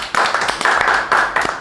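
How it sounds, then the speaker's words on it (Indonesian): A small group of people claps their hands indoors in a quick run of sharp, close claps that come in uneven bursts and stop after a moment. "Tepuk tangan ya."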